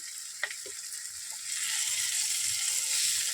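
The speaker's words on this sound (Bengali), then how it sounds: "এবার একটু হালকা এমনি ভেজে নেবো" Black cumin seeds fry in a little oil during a katla fish recipe, making a faint, steady sizzle that swells slightly partway through, with a few small clicks near the start.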